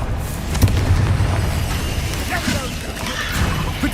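A Confringo spell blasts in Hogwarts Legacy with a loud, booming fiery explosion and crackling debris, layered among other combat effects and game sounds.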